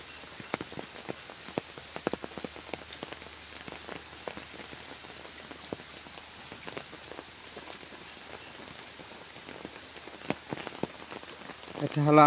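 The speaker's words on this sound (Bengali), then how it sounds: "অনেক দিন পর কেসে প্রচুর বৃষ্টি হলো।" Heavy rain after a long dry spell, falling in a home courtyard where ducks bathe; a steady dense patter of drops with sharper close splashes, continuous and fairly loud throughout, no voices.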